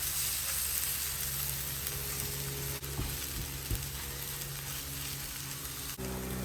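Three sausages sizzling in an Anko mini electric frypan, a steady close crackling hiss with a couple of faint clicks and no talk.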